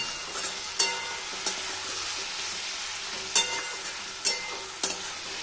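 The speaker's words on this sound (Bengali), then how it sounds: "কষিয়ে নেব।" Potatoes with chili and turmeric powder sauté in a hot pan with a steady sizzle, punctuated by five or so sharp scrapes and clanks of a spatula stirring against the metal.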